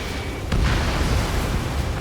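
A vehicle blows up in Ace Combat 7, a loud sudden blast at half a second that rolls into a sustained thundering rumble filling the rest of the moment.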